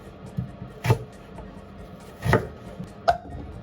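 A knife cuts food into square pieces on a board. Three sparse, close chops land with a pause between each, and the background stays quiet.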